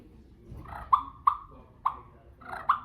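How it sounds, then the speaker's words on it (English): Four sharp, clucking Houndstooth turkey-call notes spaced irregularly, with soft purring rolls between them, close and fairly quiet. "So that's a cluck. Yep, cluck and purr. Just a light cluck."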